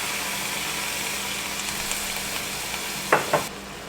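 Onions frying in a pot with beef for cowboy chili, giving a steady broadband sizzle throughout, with a couple of brief louder scrapes or stirs near the end and no talking.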